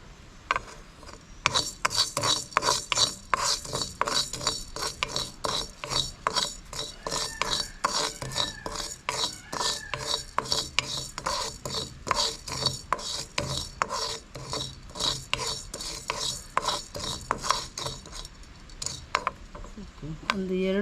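White dosa rice dry-roasting in a pan, grains rasping and scraping in a steady rhythm of stirring strokes, close and fairly loud with no voices.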